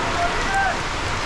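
Heavy tropical rain pours down outdoors in Cali, Colombia, giving a dense, steady hiss of drops hitting surfaces, loud and continuous over its whole short span.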